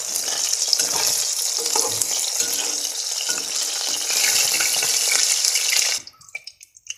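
Rohu fish fries in hot oil in a pan, a loud, dense sizzle that runs continuously for about six seconds before dropping away to quiet, scattered crackles.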